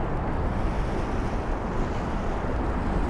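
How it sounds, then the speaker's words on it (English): Water washes steadily onto a small beach beneath the Brooklyn Bridge on a January day, a continuous broadband surf wash mixed with wind noise, with no voices. "there's a little beach right beneath us, the water crashing"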